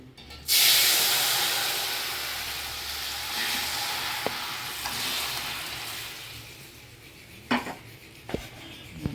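Meat drops into hot spiced oil with a sudden loud hiss that erupts up close and then slowly fades to a softer sizzle, followed by a few sharp clinks of a utensil against the pan.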